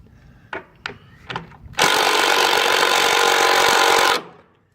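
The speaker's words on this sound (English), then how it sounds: "Use wrenches to tighten up the bolts. We prefer to use an impact." Impact wrench tightening bolts on an iBoards running-board bracket mount, passenger side of a 2013 Mercedes-Benz Sprinter van: three short rattling bursts, then one loud sustained buzzing run of about two and a half seconds, close and alone.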